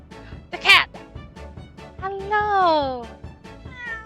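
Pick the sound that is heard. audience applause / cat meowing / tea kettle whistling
cat meowing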